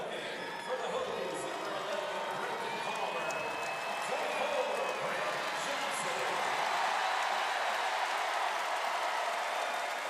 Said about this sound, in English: That cheer you hear from the crowd.